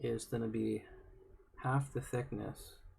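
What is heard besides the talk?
No distinct noise like a dog, phone or traffic.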